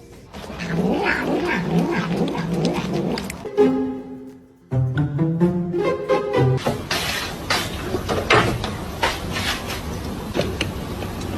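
Loud, drawn-out cat yowls and meows repeat in an agitated, caterwauling run, close up, with clattering noise mixed in.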